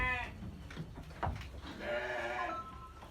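Goats bleat on a goat farm, with a few loud, wavering cries close by and a short pause between them.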